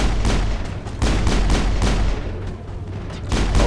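Rapid bursts of gunfire in the video game Mass Effect crack repeatedly over a low rumble, loud and close, with brief pauses between volleys.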